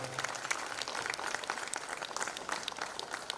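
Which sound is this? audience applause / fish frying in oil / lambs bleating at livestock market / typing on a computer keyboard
audience applause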